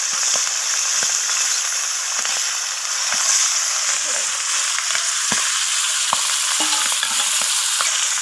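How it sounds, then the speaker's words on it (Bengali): Fish heads frying in hot mustard oil in a wok, a loud continuous sizzle with scattered sharp pops and crackles throughout. "এরপর আমি মাছের মাথাগুলোকে ভেজে নেব"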